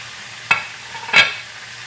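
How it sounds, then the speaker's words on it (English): Boned, flattened chicken pieces frying in a skillet: a steady soft sizzle with two brief louder bursts of spattering as the pieces shift in the pan. "you can hear them sizzling"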